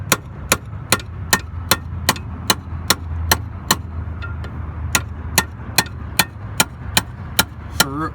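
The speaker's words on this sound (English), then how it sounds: "Tire iron and sledgehammer can be used for anything these days." A sledgehammer strikes metal during a roadside fuel filter repair on a Ford F350. Sharp, loud blows land in a steady, even rhythm, roughly two per second, over a low background rumble.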